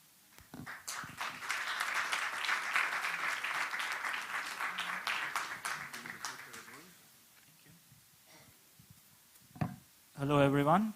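An audience at a startup demo day applauds a team after its pitch, several seconds of loud clapping that fades out, then a quiet stretch before a voice speaks over a microphone.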